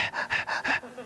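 A human voice imitates heavy panting after running, five quick rhythmic breathy huffs close to the mic, with no other speech.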